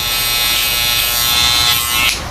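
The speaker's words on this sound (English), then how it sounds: "So I already have the trimmer in my hand." Electric hair trimmer shaping a beard line at close range, a steady high buzzing whine that shifts slightly as it presses against the hair and then eases off at the end.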